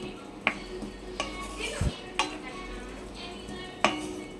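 Masala paste fries in oil in a pan for stuffed brinjal curry while a spoon stirs it, with sharp metallic scrapes and clinks spaced out over a quiet, soft background sizzle.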